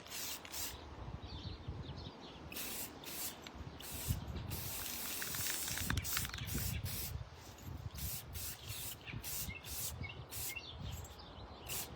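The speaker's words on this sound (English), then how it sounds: "Just spray everything, the sides." Clear satin spray sealant hisses from an aerosol can onto craft items outdoors, several short bursts and longer sprays in repeated pulses, with birds chirping in the background.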